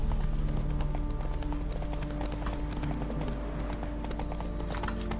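Roach the horse galloping in The Witcher 3, a steady rapid clip-clop of hooves running throughout over a low continuous rumble, close and fairly loud with no talk.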